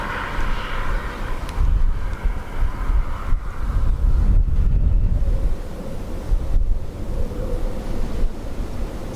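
Gusty wind buffets the microphone outdoors at Dublin Airport, with low, rumbling bursts that rise and fall irregularly over a faint distant aircraft drone.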